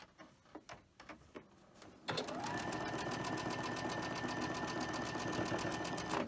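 Domestic sewing machine stitching a cotton quilt block, a few handling clicks and taps, then a sustained, fast, even whirring run close by.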